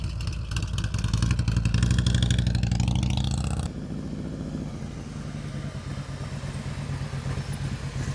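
A motorcycle engine held at low revs during slow-speed riding practice in North Carolina, a steady loud idle-like drone with a rougher burst in the first few seconds, then a quieter continuous throttle hum.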